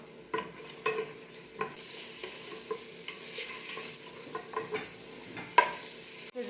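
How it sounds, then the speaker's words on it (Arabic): Food frying in butter in a pot for a Constantine-style Algerian tagine, with a soft sizzle under repeated spoon stirs and clinks against the pot at an irregular rhythm. "مغرف زبده وطرف كويس ونقعد نقلي فيهم كيما هكا."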